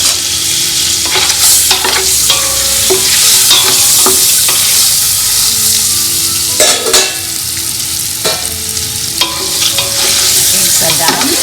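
Eggs fry with salt and spices in a pot for egg biryani, giving a loud, close, steady sizzle with scattered crackles and pops, and no voices.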